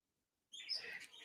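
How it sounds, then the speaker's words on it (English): Pet birds chirping indoors, a burst of bright, busy twittering that starts abruptly and continues, close and moderately loud with no talk over it. "Can you hear my birds?"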